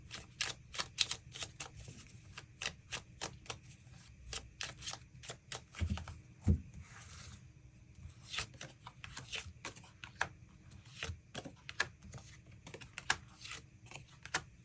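Tarot cards shuffled and drawn for a love reading, giving a dense run of crisp papery riffles and flicks at close range, with a couple of louder slaps near the middle and no voice over them.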